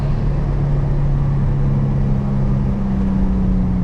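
Steady, loud engine drone from a 2007 Infiniti G35 coupe with an aftermarket air intake and near-stock exhaust while cruising at night, a constant low hum with a faint whooshing layer and no talking.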